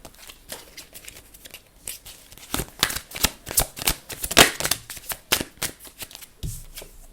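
A deck of message cards is shuffled by hand, a quick run of crisp riffling flutters and taps, close and fairly loud, repeating in uneven bursts.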